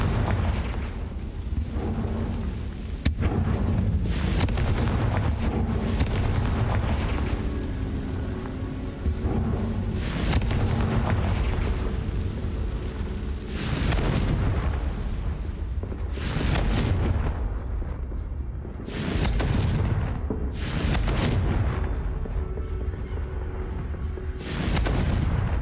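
Confringo fire spells from the game Hogwarts Legacy burst into a run of loud, booming explosions, several heavy blasts rolling one after another with a dense roar between them.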